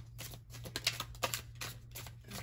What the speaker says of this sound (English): Let me just shuffle these up a little bit.